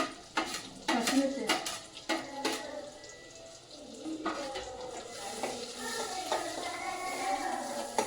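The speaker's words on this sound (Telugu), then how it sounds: "ఉల్లిగడ్డ కాసేపు నూనెలో వేగాలి కలర్ వచ్చేదాకా వేగాలి" Onions frying in oil in a pan give a bubbling sizzle, broken by clanks and scrapes of a spoon stirring against the vessel, with a faint voice now and then.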